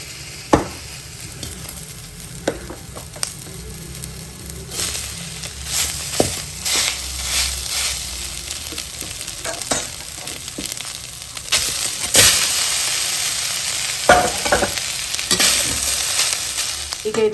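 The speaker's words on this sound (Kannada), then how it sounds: "ಈಗ ಬೇಯಿಸಿಟ್ಕೊಂಡಂಥ ಗೋಧಿ ಕಡಿನ ಹಾಕ್ಕೊಳ್ತೀನಿ." Cooked broken wheat is stirred in a hot frying pan, a steady sizzle with scraping spoon strokes and occasional sharp knocks against the pan, up close and without talk.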